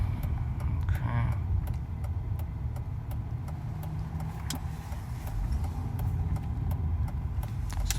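A Mercedes SL500 with a repaired electronic throttle drives down a street and swings through a U-turn, its engine a steady low hum with road rumble and light ticking in the background.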